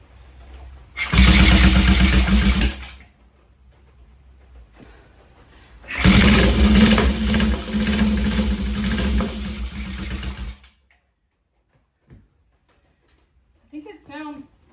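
Honda CL72 Scrambler motorcycle engine revving loud and close in two long bursts, a short blip and then a longer sustained run, each dropping to near silence, with a faint clink near the end.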